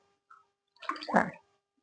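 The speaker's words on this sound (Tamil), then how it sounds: "இதுல வந்து மூணு கிளாஸ் தண்ணி ஊத்தணும்" Water is poured into a pot for making kesari in a close, brief splashing gush lasting well under a second, preceded by a faint tap, with no talking.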